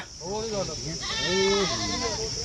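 A goat bleats up close at a village goat market in Punjab, with one short call followed by a longer wavering bleat, while people talk nearby.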